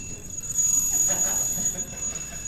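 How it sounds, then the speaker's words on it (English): A phone alarm goes off at a school update speech in a hall, a steady high electronic tone ringing continuously over room noise. "My alarm went off."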